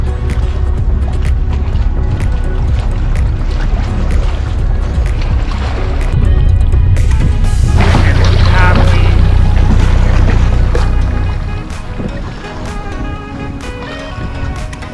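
Kayaking on the ocean off Santa Cruz Island in the Channel Islands, with paddle splashes and sloshing water over steady wind and surf, loud and close throughout, shifting midway as the boat moves.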